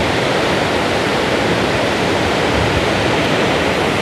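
Sadhery waterfall in Samahni roars with water crashing down, a constant, loud, broadband rush with no pauses and no voices, heard close to the falling water.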